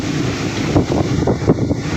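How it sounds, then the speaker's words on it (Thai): Strong wind buffets the microphone outdoors, a loud rumbling roar with repeated gusty swells over a couple of seconds and no voices. "แต่มื้อนี้อากาศดีพี่น้องฟังเสียงลม"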